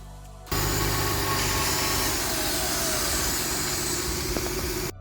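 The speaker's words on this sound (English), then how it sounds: "until I started the engine" The engine of a cheap auction Mercedes luxury SUV starts abruptly and keeps running with a loud, rough, steady rumble, continuous to the end.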